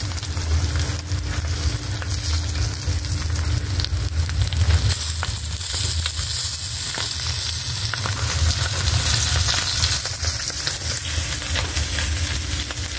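A pot of paksiw na isda, a Filipino fish stew, boils hard with a constant dense bubbling and sizzling hiss, loud and close throughout.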